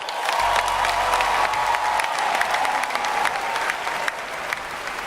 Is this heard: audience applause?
yes